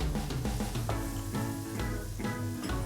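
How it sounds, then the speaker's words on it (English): Fresh garlic sizzling with onions in a pan for a meat pasta sauce, a steady close crackle with soft stirring scrapes and no voices. "take about a teaspoon of fresh garlic and put that in with the onions"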